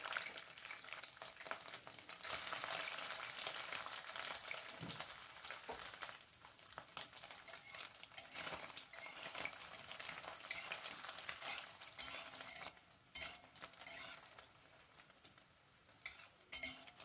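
Steady crackling sizzle of paneer frying in hot oil, with occasional clinks of a utensil against the pan, close up and with no talking.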